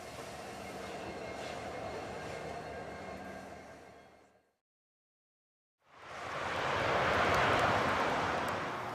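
Union Pacific Big Boy 4014 steam locomotive train leaving Evanston on the mainline near Wasatch, Utah, a heavy rolling rumble that cuts out briefly to silence, then returns louder and broader, without speech.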